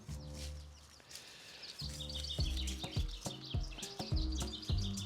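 Birds chirp and sing outdoors in a snowdrop-covered churchyard beside an old dilapidated church, with repeated bright calls over a steady background of wind or distant noise.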